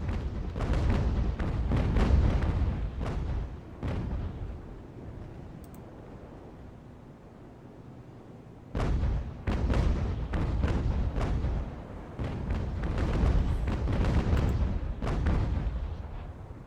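Broadsides of solid shot from sailing warships' cannons in Ultimate Admiral: Age of Sail, dense clusters of booming shots rolling together, a quieter lull in the middle, then another heavy barrage.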